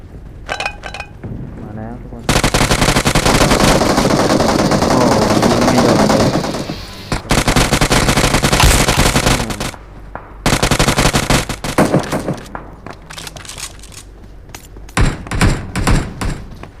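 Gunfire in PUBG Mobile, long bursts of rapid automatic shots alternating with short pauses and single shots, loud and close, with a voice talking over the action.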